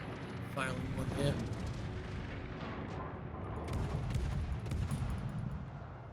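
Naval gunfire rumbles through a World of Warships tier 3 battle, with repeated deep booming salvos and explosions layered over a continuous low roar of game sound, loud and dense throughout.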